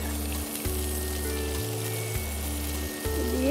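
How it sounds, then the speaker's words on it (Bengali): Chopped garlic sautés in hot mustard oil with a loud, steady close sizzle, broken by a few short clinks of a stirring utensil, and no voices. "ওখানে যে আমাদের কুচানো রসুন আছে ওটা আমরা অল্প পরিমাণে দিয়ে হালকা সতে করে নিব"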